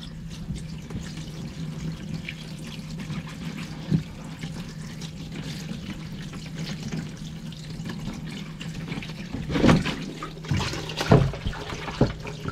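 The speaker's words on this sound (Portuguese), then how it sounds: "Na hora que tu põe a água assim, já limpa bastante." Water runs steadily from a tap over a K&N washable air filter being rinsed, with a continuous splashing flow and a few louder bursts of splatter toward the end.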